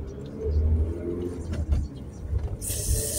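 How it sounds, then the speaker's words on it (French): A small licence-free microcar, a voiture sans permis, passes by on a street with a steady buzzing motor and mechanical whir, fairly close and loud, ending in a brighter hiss. "je vais me taper une voiture sans permis"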